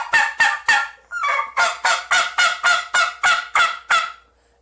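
A turkey call blown in about thirteen rapid raspy, hard yelps, loud and close, ending in quiet; a smaller call still keeping that coarse, throaty rasp.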